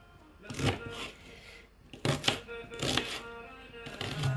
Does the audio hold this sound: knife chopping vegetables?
yes